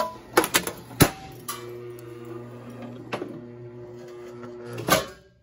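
A PLC-controlled shear machine runs and then cuts off stock, giving sharp mechanical clacks and thumps at the start and again near the end, with a steady low motor hum in between, fairly close and with no talk.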